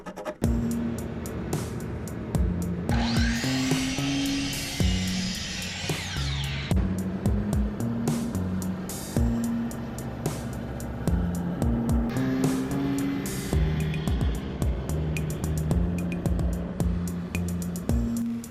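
A piece of walnut cut down to size with a power saw, the blade whining loudly through the wood for a few seconds, then running again more faintly, over a droning motor and steady background hum.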